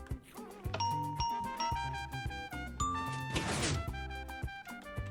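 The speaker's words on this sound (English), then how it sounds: "Gold blocks make like the bell sound?" Minecraft note blocks set on gold blocks play bright, ringing bell tones in a quick melodic sequence, with layered chimes over steady background music and a brief crash-like burst in the middle.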